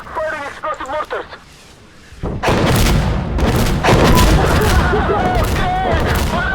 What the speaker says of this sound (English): Firing explosive mortars.